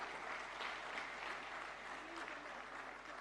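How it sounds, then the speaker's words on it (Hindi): A crowd at the inaugural session of Yoga Connect 2025, organised by India's Ayush ministry, gives the team a continuous round of applause. The clapping sounds soft and distant, with a steady texture throughout. "जोरदार तालियां टीम के लिए।"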